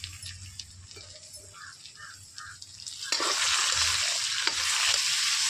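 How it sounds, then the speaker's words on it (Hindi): Tomatoes frying in a pan with turmeric and spices at home, stirred now and then; a soft sizzle grows into a loud, steady hiss about halfway through, with no one talking. "टमाटर को भी साथ में भून ले रही हूँ और हल्दी भी डाल देती हूँ"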